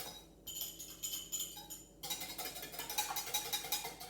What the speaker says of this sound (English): crack your egg into your milk and mix it up really well